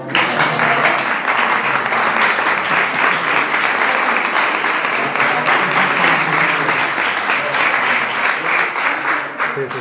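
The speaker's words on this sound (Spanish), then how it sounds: "Un aplauso." Sustained audience applause at a Sevilla gathering of a state platform, dense and steady for nearly ten seconds, loud and close with no break.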